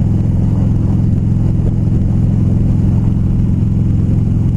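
A 2016 Harley-Davidson Low Rider motorcycle engine runs with a deep, steady low rumble and mild revving. It is loud and close, with no voices.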